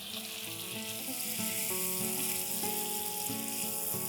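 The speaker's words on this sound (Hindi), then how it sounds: "और ये गया मैरिनेटेड चिकन कढ़ाई के अंदर फ्राई होने के लिए" Marinated chicken frying in butter and oil in a kadai over medium to high flame, a steady close sizzle with crackling and a faint clatter of stirring.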